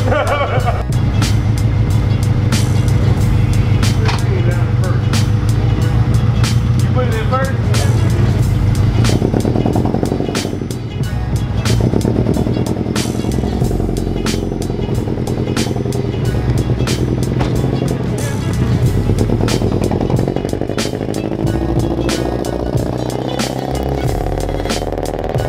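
A Honda engine runs steadily right after starting, a continuous loud idle with a low rumble that holds for the whole stretch, with voices talking over it.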